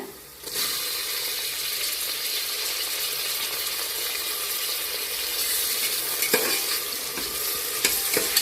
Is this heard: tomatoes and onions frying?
yes